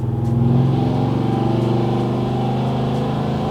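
A Chevrolet Silverado truck's 5.3 V8 fitted with a Texas Speed Stage 4 camshaft runs at full throttle on a dyno, a loud, steady, close-up engine roar holding its pitch throughout.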